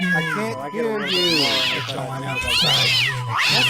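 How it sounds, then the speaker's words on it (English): Cat meowing repeatedly in drawn-out, rising and falling calls heard over a phone line, loud and close, overlapping other background noise. "I'm hearing a kitty cat and a baby."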